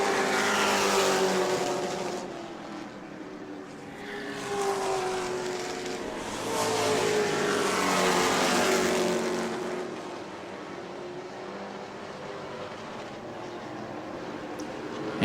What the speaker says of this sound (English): Laps winding down in this second heat race for the Pro Trucks